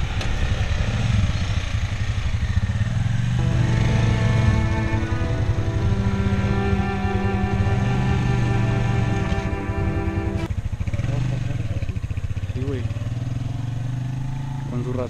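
Motorcycle crossing the top of the abandoned Arcos de Saucillo aqueduct in Huichapan, Hidalgo, its engine droning steadily and close the whole time, with pitch shifts as it revs, and someone talking over it.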